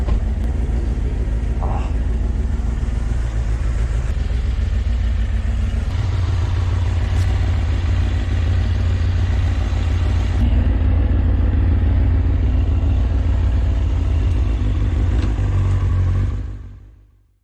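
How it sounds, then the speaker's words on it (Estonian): A motorcycle engine runs steadily with a deep, rumbling idle and a few rising revs, close and fairly loud throughout before cutting off abruptly at the end. "istungi selle tarvis nagu mootorratta selga ja jätkan sealt oma videoga"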